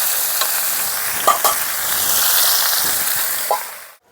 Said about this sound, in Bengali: একটু লবণ দিয়ে ভেজে নিচ্ছি, হলুদ এখন আমি আর দিব না। ঢাকা দিয়ে ভেজে নেব,